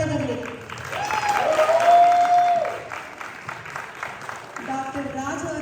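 Audience clapping for the singers at a Kannada Rajyotsava and Deepavali stage show, a sustained round of applause that swells and eases over a few seconds, with a voice heard through it.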